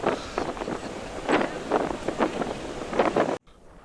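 Gusty wind buffeting the microphone on the rear deck of a ferry sailing in Greece, loud rushing bursts rising and falling over a low hull rumble, cutting off abruptly near the end.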